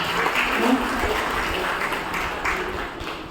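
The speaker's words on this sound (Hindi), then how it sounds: "इनके लिए ताली बजा दीजिए" An audience claps steadily and continuously in a hall during a Brahma Kumaris talk, a dense even wash of applause with no voices on top.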